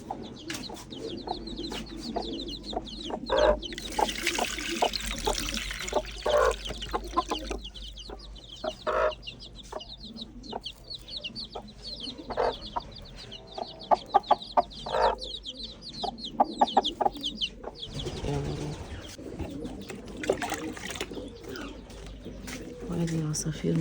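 Chicks and other backyard birds being watered at breakfast cluck and chirp continuously close by, mixed with pigeon-like cooing, while someone talks over them throughout.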